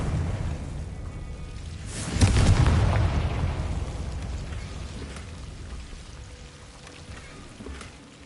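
A Confringo spell in Hogwarts Legacy bursts with one loud, booming explosion, followed by a long crackling, debris-like rumble that slowly fades over several seconds.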